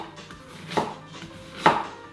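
A knife chops through sharp onions on a board, two distinct cutting thunks about a second apart, close and alone.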